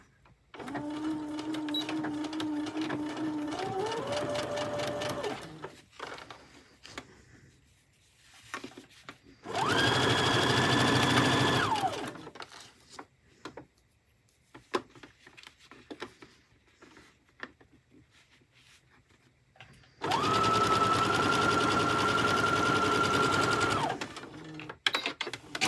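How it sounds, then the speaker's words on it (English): A sewing machine stitching vinyl runs in three bursts of steady mechanical whirring, close and loud, with quiet handling noises in between. "Okay, so we're back from the sewing machine."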